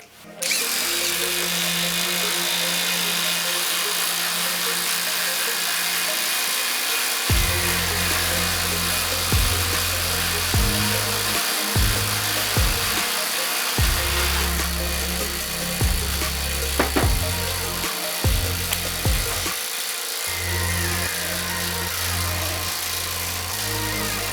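Dnipro-M DTD 201BC cordless impact driver sinking a long 10x240 screw, a motor whine broken into repeated bursts of hammering, close and loud, with short pauses between runs and no talking.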